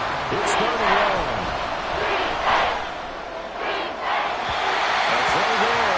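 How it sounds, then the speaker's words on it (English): In the Madden NFL 24 video game, a stadium crowd roars steadily at a 49ers vs Seahawks matchup, a loud, continuous wash of cheering that swells slightly at moments, while a commentator talks over it. "This crowd turning up the decibel level."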